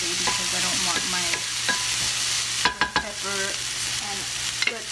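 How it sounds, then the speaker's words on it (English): Ham frying in a pan, a steady close sizzle under sharp scraping and stirring knocks that cluster into quick bursts midway, with a low steady hum beneath. "Fry up my ham a little"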